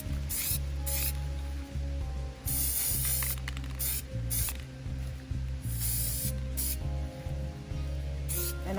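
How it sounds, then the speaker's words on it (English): Short hissing bursts of metallic gold spray paint on the bottom of a tumbler, several close, loud sprays in an uneven rhythm over a low steady hum. "So what I do is I just spray on the bottom."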